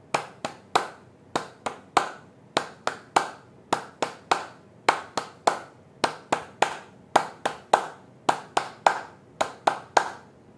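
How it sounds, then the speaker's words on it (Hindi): Hands clap in quick sets of three, sharp and close, repeated steadily with brief pauses between each triplet as part of a guided clapping exercise. "जब ताली बजाएं तब भी थोड़ा सा हल्का छोड़ दीजिएगा"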